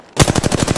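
Enemy automatic gunfire in Apex Legends, a loud close burst of rapid evenly spaced shots starting abruptly and continuing through the short moment.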